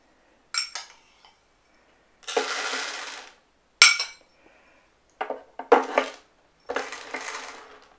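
Dry rice poured and shaken inside a violin body to clean it, heard as several separate bursts of grainy rattling and hissing, each a second or so long, fairly close with quiet gaps between.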